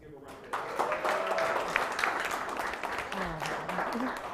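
An audience applauds a presenter at the Main Street Venture Track final round of a university pitch competition, with a steady wash of clapping throughout and voices talking over it.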